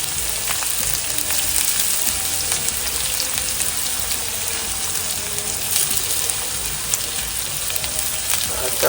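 Finely chopped onion frying in oil in a pan with mustard seeds and cumin, a steady dense sizzle that holds evenly throughout at close range, with no talk over it.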